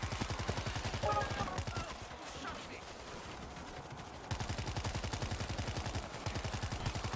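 Rapid hip-fire gunshots in the World War Z Aftermath video game, rattling off in steady automatic bursts with a brief pause midway, loud and continuous, with a voice talking over parts of it.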